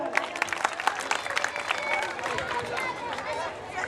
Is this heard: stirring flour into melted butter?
no